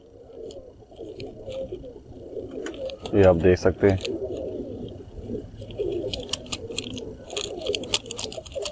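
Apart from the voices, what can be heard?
pigeons cooing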